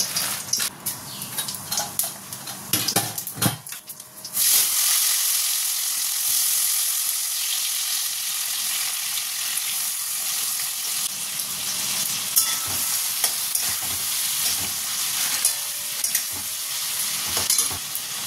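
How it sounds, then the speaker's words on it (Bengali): Dried red chillies and five-spice tempering hitting hot oil in a wok: a few clattering knocks, then a loud burst of sizzling that settles into a steady, close crackling fry with occasional stirring scrapes. "এটাতে তেল দিয়েছি কড়াতে, দেব শুকনো লঙ্কা ফোড়ন, 5 ফোড়ন দেব"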